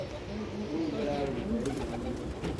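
Purebred Teddy Golden Paras Ferozpuri pigeons coo softly in a low, rolling murmur, faint and close, while someone talks nearby.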